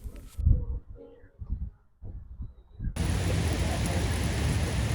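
Steady rain falls outside in Batavia, Illinois, a loud, even hiss that starts suddenly and continues unbroken after a stretch of quieter, muffled sounds.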